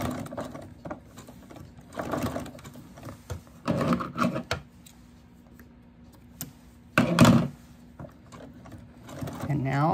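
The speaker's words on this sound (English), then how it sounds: "very carefully start zigzagging around the coil" A sewing machine zigzag stitches around a coiled rope for a mini rope bowl, running in short bursts separated by pauses, close and fairly loud with a steady motor whir under each burst.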